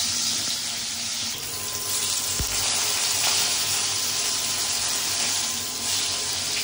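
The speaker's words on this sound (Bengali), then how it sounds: "মাছগুলো ভাজা হয়ে গেছে," Pieces of fish frying in a pan of hot oil give off a steady, loud, unbroken hiss of sizzling that runs the whole time without a break.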